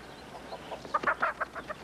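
Chickens in a film scene cluck in a quick run of short, nasal calls, faint at first and growing louder and busier toward the end.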